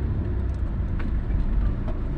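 Road traffic on EDSA near Guadalupe in Metro Manila: a steady, close rumble of car and vehicle engines idling and crawling in heavy congestion, continuous low noise with no voices.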